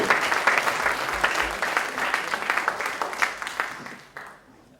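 An audience applauds two companies, company number 2 and 3, at an MIT Enterprise Forum San Diego event: steady dense clapping from a crowd that fades out near the end.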